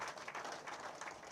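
Audience applause at a Uganda launch event for Post Bank and MTN Uganda's PDM payment partnership, a steady dense wash of clapping heard from a distance, fairly faint and even throughout.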